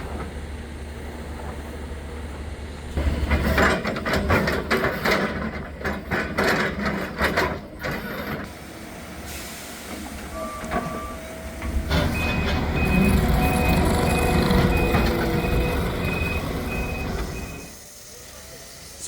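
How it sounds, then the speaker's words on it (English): A skid steer scoops broken concrete off a residential driveway during demolition of a burned-down house, its engine and clanking loader work loud and continuous, with a steady intermittent reversing beep sounding for several seconds near the end. "Now they're using the skid steer, which is the smaller vehicle that you see here, to remove the concrete from that edge"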